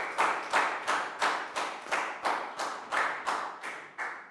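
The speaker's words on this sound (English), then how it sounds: "So round of applause" A primary school class claps together in a maths lesson, about nine crisp claps in an even, regular beat, each one sharp and close, with no talk.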